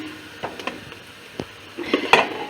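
Okra stirred with chili flakes, black pepper and salt in a pan for Konya-style bamya, a few scraping clinks of a utensil against the pan followed by a louder cluster of scraping near the end, close up.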